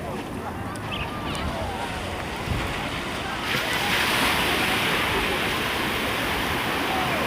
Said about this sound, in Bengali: এই যে সকালের যে একটা জোয়ার আসছে না, এই জোয়ারে না প্রচণ্ড হাওয়া আসছে একটা